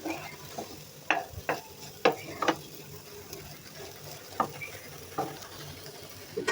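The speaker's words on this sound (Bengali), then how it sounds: "এখন এটা একটু ভাজা ভাজা হোক।" Ginger, onion and garlic paste with green chilli and salt frying in a pot for khichuri, with a soft steady sizzle and intermittent scraping knocks from stirring, close by and alone.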